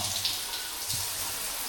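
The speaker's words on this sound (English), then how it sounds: "let me have a shower" Shower water running steadily, a close, even hiss of spray without talk.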